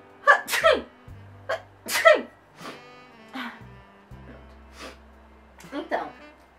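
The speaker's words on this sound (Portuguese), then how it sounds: "Pera aí, eu vou espirrar." Two sharp sneezes near the start, followed by softer breathy sniffs and small bursts, with a low steady hum underneath.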